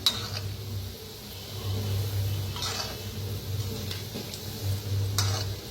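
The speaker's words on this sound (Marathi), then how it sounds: "तर आपण तळून घेऊया" Gulab jamun balls frying in oil at home, a steady soft sizzle with occasional light clinks and scrapes as they are turned.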